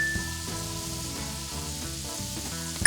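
Scallops frying in butter on a Blackstone griddle hiss in a steady, close sizzle, partly masked by prominent background music.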